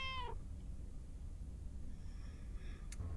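A cat meows once, short and upward-bending, inside the video game Lake, followed by quiet ambient background hiss.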